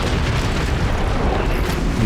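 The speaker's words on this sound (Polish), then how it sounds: "nasz protagonista ucieka przed bombami, ucieka przed bombardowaniami" Bomb explosions in a video game, a continuous heavy rumble of loud booms and blasts filling the whole stretch without pause.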